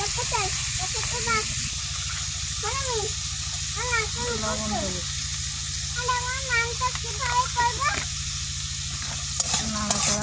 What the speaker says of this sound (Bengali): উচ্ছে আলু কলা নাড়াচাড়া